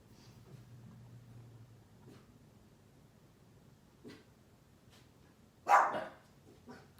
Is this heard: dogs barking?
yes